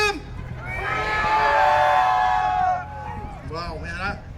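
A convoy crowd roars out a long, loud shout of "freedom" in unison, the chant swelling and then breaking into scattered cheers and whoops near the end.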